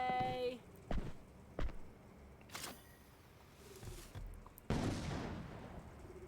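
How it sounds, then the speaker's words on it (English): Double shotgun firing in the video game Frens vs Frens, a handful of sharp, separate blasts spaced out over a few seconds, with a longer, louder burst and rumbling tail near the end. "Oh, the double shotgun."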